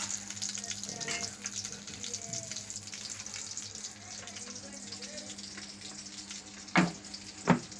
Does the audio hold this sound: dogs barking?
no